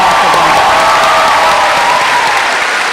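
An audience at Bard College's 154th commencement in 2014 bursts into sustained, loud applause with scattered cheering, a dense continuous clatter of many hands that eases slightly toward the end.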